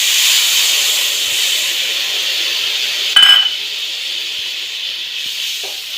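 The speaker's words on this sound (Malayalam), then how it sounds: "അതിലേക്ക് നമ്മൾ നേരത്തെ എടുത്തു വെച്ച പുളിവെള്ളം ഒഴിച്ചു കൊടുക്കുക." Tamarind water poured into a hot pan of tempering for rasam hisses and sizzles loudly and steadily, with a brief sharp clink of a vessel midway before the sizzle settles and fades slightly.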